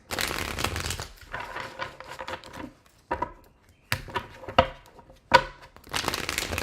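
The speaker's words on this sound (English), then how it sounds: "Last shuffle." Tarot cards are shuffled in bursts of riffling and crisp slapping, close up, with short pauses between the bursts and no voice heard.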